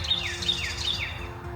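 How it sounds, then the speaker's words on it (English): Birds sing at dawn at a motorcycle campsite, with a repeated high chirping call rising and falling about three times in quick succession, close and clear over a soft background hum. "All the birds are waking up now too."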